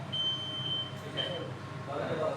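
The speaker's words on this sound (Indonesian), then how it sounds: "ini alarm ya Pak. Setiap kali alarm bunyi ada notifikasi di sana." A machine's alarm sounds as a thin steady electronic tone that cuts off and briefly returns, faint beneath a low background hum of machinery.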